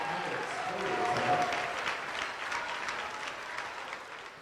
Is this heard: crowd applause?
yes